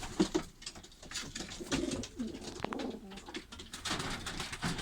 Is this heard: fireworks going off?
no